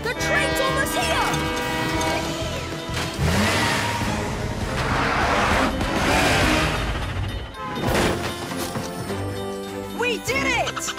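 A cartoon train rumbles closer and its horn blasts loudly in sustained tones, with engine noise swelling in the middle before the horn returns over the clattering approach.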